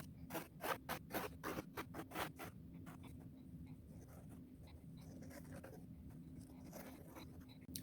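Something draws a pattern through the sand of a small table-top zen garden with soft, close scratching strokes, quick and rhythmic at first, then easing into a quieter continuous scrape.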